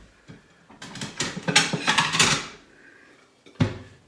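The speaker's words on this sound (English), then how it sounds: "We turn off the oven and we grab a plate." Ceramic plates clatter and scrape in a kitchen after the oven is switched off, a dense burst of clinking crockery followed by a single sharp knock near the end, close and fairly loud with no talking.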